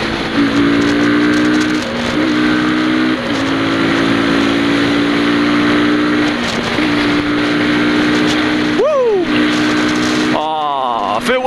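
A Cimatti GT 300i scooter engine drones steadily and close, its pitch dipping and rising in a few revs, with a sharp rising whine near the end.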